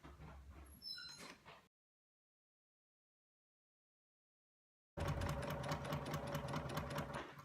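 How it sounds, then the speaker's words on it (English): A sewing machine stitches quilt fabric pieces for a feathered star block, first in a short whirring burst, then after a silent gap a longer run of fast, even rhythmic needle clatter heard close up. "I'm sewing on the solid line"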